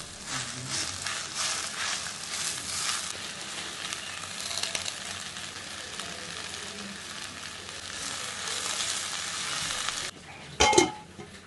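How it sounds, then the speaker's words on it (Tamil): Drumstick leaves fry with garlic and onion in a pan, a steady loud sizzle running throughout with a few stirring scrapes and a sharp clatter near the end. "இப்போ வெங்காயம் வதங்கினதுக்கப்புறம் முருங்கைக்கீரை நல்லா அலசிட்டு போட்டுடலாம்."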